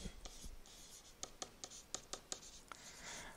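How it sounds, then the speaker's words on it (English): Chalk or marker tapping and scratching on a board in a math lecture, a quiet run of short sharp strokes in an uneven rhythm, heard close and alone. "let me write this down"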